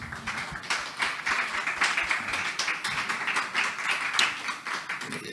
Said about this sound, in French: je vous demande de l'applaudir parce que c'est quand même une